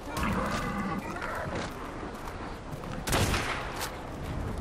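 Gunfire in the video game ARK Survival crackles in several sharp bursts over a busy, noisy game soundscape, with one strong shot standing out near the middle.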